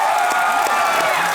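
Studio audience at a TV comedy show applauding for Sohail Khan, a dense, steady wash of clapping and crowd noise close and loud throughout.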